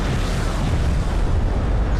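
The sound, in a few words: missile barrage explosions in Homeworld: Deserts of Kharak video game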